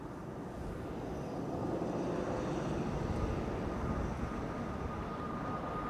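A TUI Boeing 737 MAX 8 passes at Amsterdam Schiphol Airport as a distant, fairly faint broadband jet roar that swells gradually and holds steady, with no voices.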